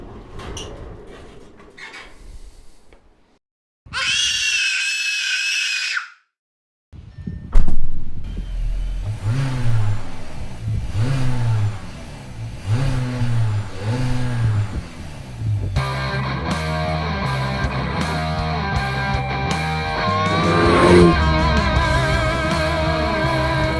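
Skoda Octavia RS plug-in hybrid on a test drive, with a brief high whirring burst, then a rhythmic engine drone that swells and eases, and a busier mix of engine and road noise toward the end.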